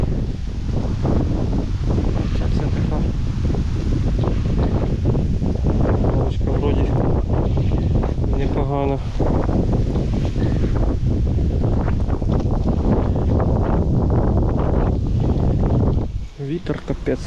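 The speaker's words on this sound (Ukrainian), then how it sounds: "Вітер капець." Strong wind buffets the microphone in a constant roaring rumble while fishing for pike near Kyiv, with muffled voices and rustling mixed underneath.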